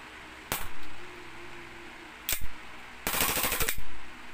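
A WE 5.1 Hi-Capa airsoft pistol firing, heard as two short sharp snaps followed by a rapid full-auto burst of about three-quarters of a second, close and loud against a quiet room hum, with no talking.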